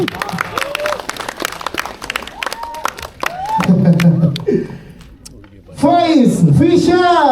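A crowd at a media event for a film applauds with a dense patter of hand claps, and excited voices and an announcer-style voice rise over and after the clapping.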